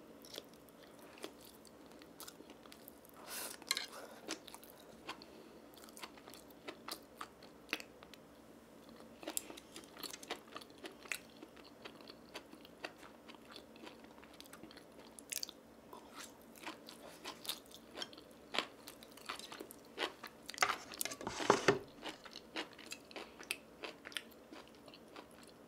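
Close-up eating of Buldak spicy fire noodles with stir-fried bracken, soft chewing and crunchy bites recurring through the clip with one louder burst of crunching near the end, no talking.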